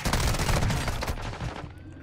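Bursts of rapid gunfire in a video game, loud and dense at first, then thinning out and fading toward the end, with no voices.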